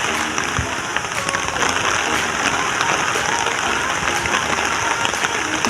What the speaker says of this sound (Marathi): हे बघा किती पाऊस आला